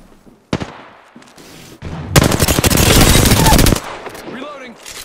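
Loud bursts of automatic gunfire in the Apex Legends video game, short rapid volleys followed by a long sustained stream of shots, with in-game voice lines between the firing.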